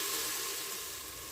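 Onions and garlic in olive oil sizzle gently in a pan, a faint continuous hiss with no talking.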